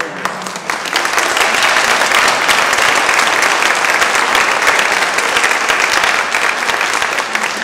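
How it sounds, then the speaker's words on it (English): An enormous round of applause from an evening audience at a Chicago blues tribute event, loud and sustained dense clapping that holds steady throughout. "Please join me once again in acknowledging with an enormous round of applause"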